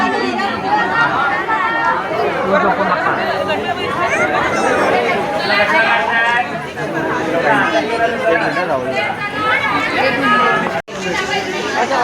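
A dense crowd chatters at the Chinchpokli Ganpati pandal, with many overlapping voices forming a steady, loud hubbub that holds nearly unbroken throughout.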